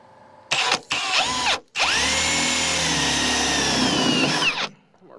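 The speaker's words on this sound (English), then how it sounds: "I'm gonna bore holes." Power drill boring bolt holes in a John Deere 6620 combine during a Loup yield monitor install, loud and close, starting in short bursts then running steadily for about three seconds before winding down.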